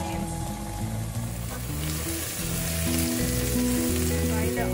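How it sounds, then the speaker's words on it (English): Chopped onions frying in a pan with salt while cooking a mutton pepper fry, a steady loud sizzle and crackle close up throughout, with faint stirring. "Fry the onion till brown."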